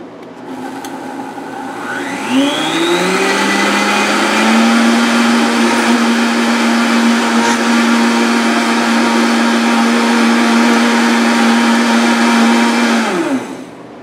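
A blender grinds dry ranch seasoning spices into powder, its motor spinning up quickly then holding a loud, steady high whine for about eleven seconds before cutting off, with no talking.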